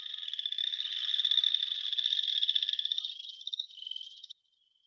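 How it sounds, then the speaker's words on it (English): Chorus frogs call from a vernal pool, a dense rapid rasping trill like a finger run along a comb, steady and fairly loud for about four seconds before stopping. "So here's some chorus frog calls."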